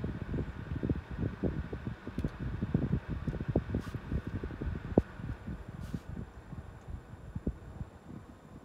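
A computer fan mounted in a camper runs at half power, giving a softer, close hum with a rapid throbbing flutter, steady and without talk.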